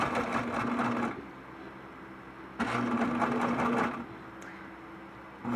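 A sewing machine runs a long basting stitch across a quilt top and apron, two steady whirring bursts separated by a short pause, close and clear with no talk.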